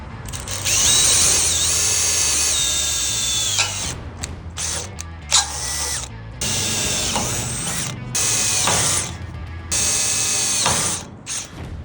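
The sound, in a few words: power drill drilling holes in trailer steps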